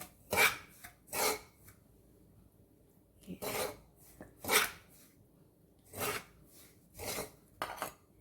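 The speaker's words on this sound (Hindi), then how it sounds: "सूजी भुन रही है और इसके साथ ऑयल के साथ, यानी ये देसी घी है" Semolina roasting in desi ghee over a low flame is stirred with a spoon, giving repeated scraping rasps against the pan, about eight distinct strokes spaced irregularly, close and fairly soft.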